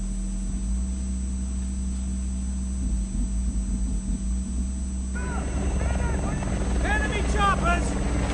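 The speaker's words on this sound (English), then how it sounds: "Enemy choppers!" Enemy helicopters approach as a steady rotor drone under raised voices, with a low constant hum that grows busier and louder over the last few seconds.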